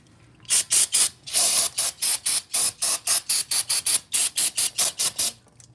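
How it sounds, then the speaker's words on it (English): Brake cleaner sprays onto the brake contact points of a Volvo S40 during a rear brake pad replacement in a garage, in about twenty loud, close, short hissing bursts in a quick, fairly regular rhythm. "So you just want to spray those contact points."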